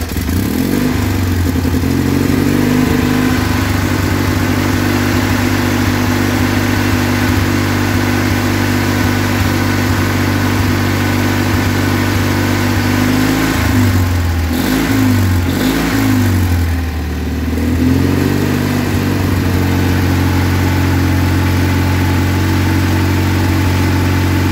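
A Kohler Magnum 20hp engine runs steadily at a loud, close, throbbing idle with a deep rhythmic chug, dipping and surging briefly midway before settling back into its even running note.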